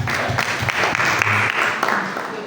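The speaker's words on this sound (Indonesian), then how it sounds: "Kita tepuk tangan dulu buat Firman." A group of people clapping together indoors, a short burst of brisk, fairly loud applause that holds steady for a couple of seconds before easing off.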